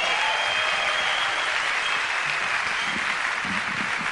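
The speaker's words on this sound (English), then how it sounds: "how about a round of applause for Mr." A jazz festival crowd in Bern applauds organist Joey DeFrancesco in 1999, a thick, steady wash of many hands clapping at full loudness, with no pauses throughout.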